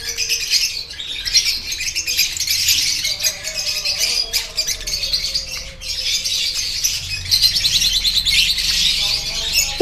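Many caged breeding birds chirp and tweet busily together in an aviary setup, a dense, continuous chorus of high overlapping calls close by with occasional squawks, no voices.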